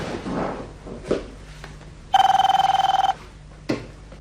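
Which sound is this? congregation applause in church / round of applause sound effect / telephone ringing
telephone ringing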